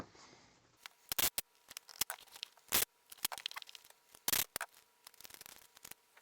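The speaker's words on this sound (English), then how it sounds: "let's go ahead and tape this up" Packing tape being pulled and pressed onto a shipping package of Pokemon cards, close sharp rips and crackling bursts in irregular spurts over a quiet room.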